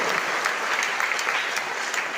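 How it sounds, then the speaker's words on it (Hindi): An audience in a meeting hall claps hard and continuously, a dense, lively patter of many hands that fills the space from start to finish. "जोरदार ताली बजाइए"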